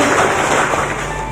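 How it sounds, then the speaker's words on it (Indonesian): A crowd of students in a high school hall on Samosir breaks into loud, dense applause, a thick continuous roar of clapping with no clear gaps. "tepuk tangan dulu buat orang tua yang saat itu"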